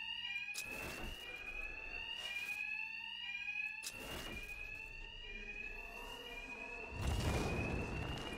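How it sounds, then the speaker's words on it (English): Continuous shrill ringing of an alarm in the video game Batman Arkham Knight, steady and loud throughout, with bursts of action noise cutting in at intervals. "Two-Face's thugs won't hear me over the alarm."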